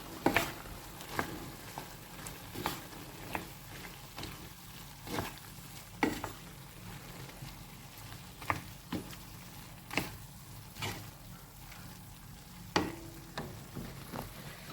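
Vegetables sizzle softly in a frying pan while being flipped and stirred, giving a faint constant hiss broken by a series of sharp scraping and tapping hits at irregular intervals, close and without talk.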